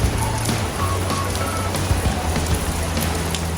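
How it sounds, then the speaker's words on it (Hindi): Rain falling in Mumbai in January, a steady, close hiss of drops pattering on surfaces with a low hum underneath, continuous and fairly loud with no voices. "ये तो बारिश हो रहा है रे बाबा"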